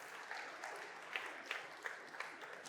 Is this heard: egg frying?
no